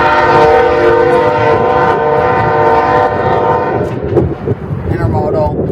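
An intermodal freight train rolls past at Fostoria, loud and close, its horn holding a sustained chord for about three seconds before the roar of passing cars and rattling wheels takes over.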